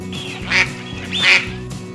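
A farm animal toy gives two loud, nasal duck quacks in quick succession over a steady electronic hum, with no talking.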